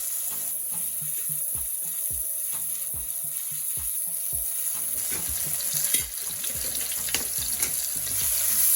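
Minced garlic goes into low-heat oil left in the same pot just used for frying king fish, giving a soft continuous sizzle under repeated knocks and scrapes of a utensil against the pot, with no speech.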